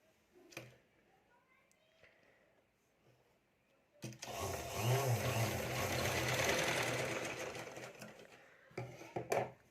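Sewing machine stitching fabric plates: a few quiet clicks, then a loud steady mechanical whirring run of several seconds, and brief clattering at the end, with a voice speaking in places.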